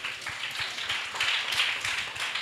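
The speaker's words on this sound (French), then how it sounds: "nous allons le recevoir ici avec des applaudissements bien mérités" An audience at a Teachers' Day ceremony claps to welcome the teacher, a crisp crowd of hands with some individually audible claps, rising and falling over a couple of seconds at moderate loudness.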